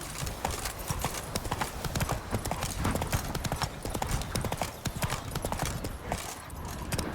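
Rhythmic clip-clop of the horse Roach trotting in The Witcher 3, dense close hoofbeats continuing steadily from start to finish, with occasional speech mixed in.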